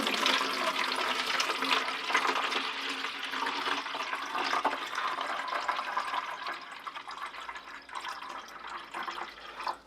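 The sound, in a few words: watering can pouring water onto dahlia tubers in compost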